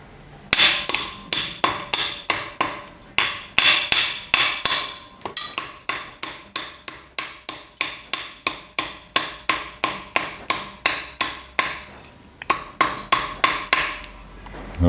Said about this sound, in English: next I'm just going to break this ceramic part here with a hammer